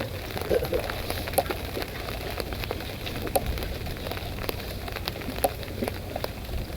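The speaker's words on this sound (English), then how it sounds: "Uh-oh, it's raining." Rain pattering on a back porch by a fishing pond, a steady close hiss with scattered sharper drop ticks throughout, no voices.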